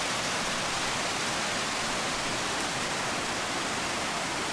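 Eurobin Falls on Mount Buffalo pours with a steady, dense broadband rush of falling water, constant and enveloping throughout, with no voices over it.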